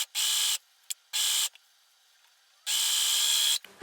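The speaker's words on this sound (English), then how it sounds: "now it's time to overlock the shoulder seams" Overlocker sewing machine serging the shoulder seams of a merino knit top, running in three bursts separated by pauses, a steady high whirring buzz with brief clicks between runs.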